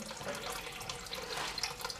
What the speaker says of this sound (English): you can hear the water pouring in